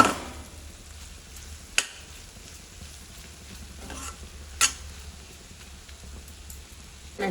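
A spoon scrapes and stirs wild gourd curry with chili powder in a pan, giving a quiet, soft rustle and low sizzle broken by a few sharp knocks against the pan.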